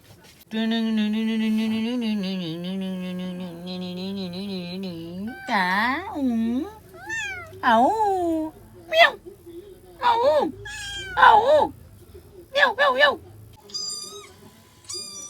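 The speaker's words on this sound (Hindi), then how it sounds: "बिल्ली वाला आवाज चला था देखा था मोबाइल में" A cat's meow plays repeatedly from a mobile phone speaker, with drawn-out wavering cries, while people talk nearby.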